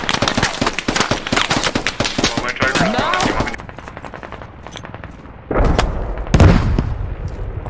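Automatic weapons fire in the military shooter game Squad, with rapid, loud, close bursts of gunshots in dense rhythmic strings, then a pause before heavier single booms and more distant shots.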